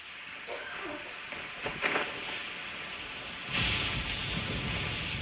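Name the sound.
rainstorm with thunder in Genshin Impact video game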